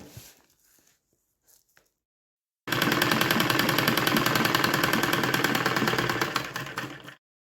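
A sewing machine stitches a red cloth cover for a seat cushion. After a few faint handling sounds it starts abruptly and runs as a loud, rapid, steady rattle for about four and a half seconds, then stops.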